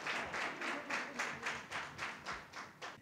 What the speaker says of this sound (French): Des applaudissements des parents et invités pour couronner des années d'insomnie.